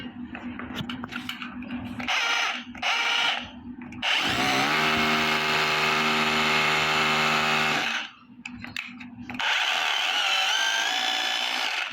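Bosch GBH 180 LI cordless rotary hammer drilling, a loud sustained whine with bursts of rough hammering broken by short pauses, no talking over it.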